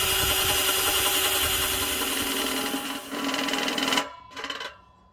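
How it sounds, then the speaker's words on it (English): A power drill bores a hole through metal, a loud continuous whine running for about four seconds, then stopping, followed by a brief second burst before silence. "So I'm going to just drill one more hole."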